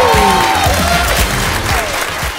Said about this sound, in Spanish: Un fuerte aplauso para nuestro querido Pablo Perroni.